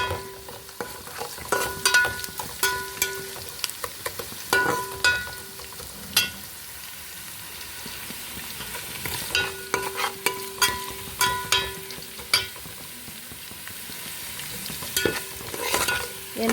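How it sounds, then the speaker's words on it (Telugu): Onions frying and browning in a pan for Andhra-style mutton biryani, a steady sizzle broken by frequent clinks and scrapes of a spatula stirring against the pan, close and fairly loud throughout. "కొంచెం బ్రౌన్ కలర్ అయితే అయింది కదండి ఆనియన్స్."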